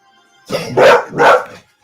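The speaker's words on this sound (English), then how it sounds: "My dog was barking at someone walking by." A dog barks close by at someone walking past, giving two or three loud, rough barks in quick succession.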